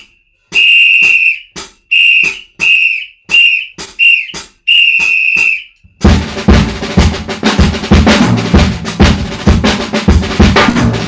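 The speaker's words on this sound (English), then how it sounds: "we would have a drum major with a whistle" A drum major's sharp, shrill whistle blown in a rhythmic pattern of short and long blasts, followed by loud marching band drums and brass.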